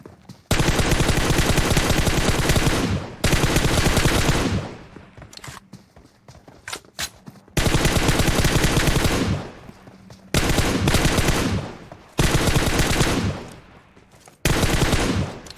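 Rapid bursts of M24 sniper rifle fire in a shooting video game, loud volleys coming in several long stretches with short quieter gaps of scattered shots and footsteps between them.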